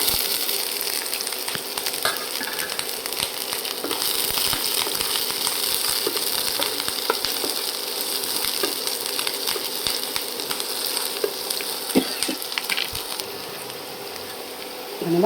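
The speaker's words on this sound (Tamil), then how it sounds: "எண்ணெய் போட்டு கடுகு பொரிஞ்சதும் வெட்டி வச்சிருக்க வெங்காயம் மிளகாவை உள்ளே நம்ம போட்டுடலாம்" Onion and chili frying in hot oil with popped mustard seeds, a steady close sizzle that runs throughout, broken by a few faint clinks and stirring scrapes.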